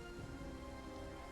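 Steady rain falls in the video game Rise of the Warlords, a dense, even hiss of drops with no break through the short stretch.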